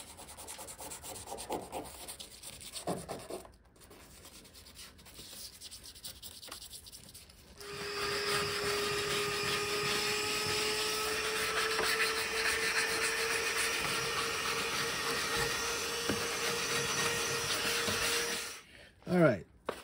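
A small file rasps rust out of small holes in a car body. Quiet scratching comes first, then a sustained harsh grinding rub runs loud for about ten seconds before stopping abruptly.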